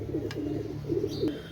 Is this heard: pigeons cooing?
yes